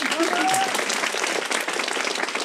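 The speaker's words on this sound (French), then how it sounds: "On applaudit très fort mon assistante." Audience applause fills a live improv theatre show, steady dense clapping with a brief voice over it at the start, lasting throughout at full strength.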